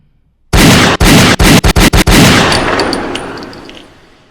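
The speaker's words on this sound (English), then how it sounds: "Gunshot." A loud, close burst of rapid gunshots, about seven or eight sharp cracks fired in quick succession, then a long ringing decay that fades out.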